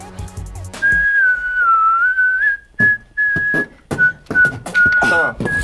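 Person whistling Mary Had a Little Lamb, a clear solo melody of sustained pitched notes, interrupted by brief laughter and bumping sounds between phrases.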